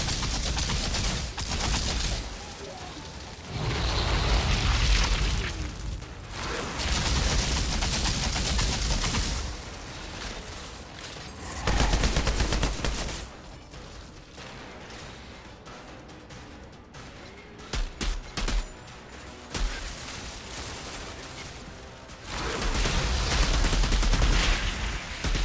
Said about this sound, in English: God, I love that gun. LMG with those damn volcanic rounds